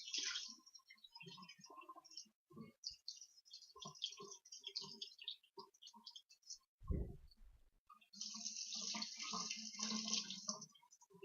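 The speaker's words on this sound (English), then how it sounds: "Make sure you run the water so that's hot" Hot water runs from a kitchen tap into a measuring cup while pan rolls are being made, heard as faint, intermittent splashing and trickling with short gaps and a single dull knock midway.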